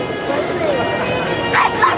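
Dogs yip and bark at a dock diving big air jump event outdoors, sharp short calls rising near the end, with an announcer talking over them.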